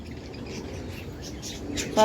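Small birds chirp faintly outdoors in scattered short calls over a low, steady background rumble.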